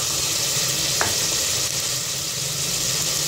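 Minced keema frying in a pan as tomato, ginger-garlic paste, green chillies and spices are added and stirred, a loud, steady close sizzle with a brief scrape of stirring.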